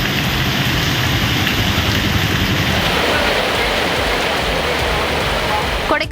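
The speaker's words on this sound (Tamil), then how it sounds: "நீலகிரி மாவட்டத்தில் கூடலூர் மற்றும் பந்தலூர் உள்ளிட்ட இடங்களில் கனமழை வெளுத்து வாங்கியது." Heavy rain falling in the Nilgiris district around Gudalur and Pandalur. A dense, steady roar of downpour runs loud and unbroken throughout, close and even, with no voices.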